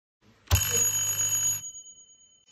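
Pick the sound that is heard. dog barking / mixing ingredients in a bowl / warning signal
warning signal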